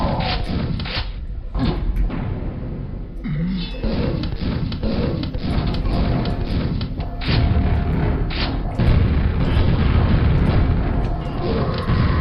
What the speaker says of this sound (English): Like this grenade launcher as like the workhorse weapon as I'm doing here.